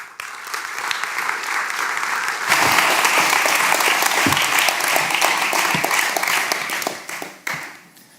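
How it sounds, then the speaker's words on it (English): An audience at a graphic design talk on activism applauds warmly, a dense, loud, sustained wash of clapping that swells after a moment and then begins to taper near the end. "Please, a warm applause."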